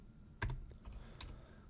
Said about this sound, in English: So to do that, we're going to go type this